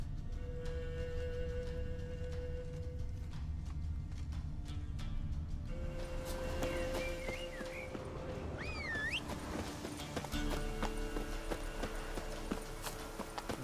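Hooves of Roach, the horse in The Witcher 3 video game, clip-clop in a steady walking rhythm over a continuous bed of game ambience and music, with a brief high whistle-like cry midway.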